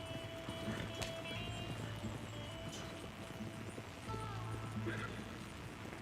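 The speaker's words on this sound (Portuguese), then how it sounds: "O meu cavalo tá vindo atrás." Horse hooves approaching in Red Dead Redemption 2, heard as a faint, soft clip-clop of a horse coming up behind, set under a low ambient bed with a steady hum.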